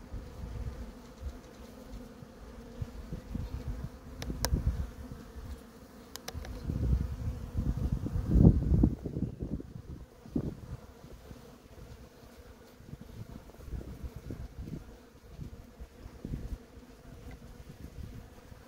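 Bees buzz steadily around a hive fitted with a pollen trap in a cherry orchard, a low droning hum that swells in the middle, with some wind rumble against the microphone.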